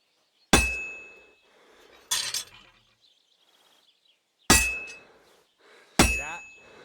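A hammer striking heated metal on a blacksmith's anvil in Kingdom Come Deliverance II, four sharp ringing clangs at uneven intervals, each decaying with a bright metallic ring, quiet between blows.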